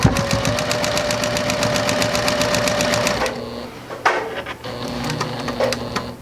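Sewing machine stitching quilt block pieces under the presser foot, running as a fast, steady mechanical chatter for about three seconds, then stopping, followed by a few scattered handling clicks and light rustling.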